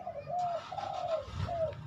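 A dove coos softly nearby, a few low, rounded hooting calls in a short rolling phrase over quiet background noise.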